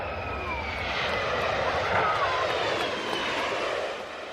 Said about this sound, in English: a giant military cargo plane approaches the not very long island runway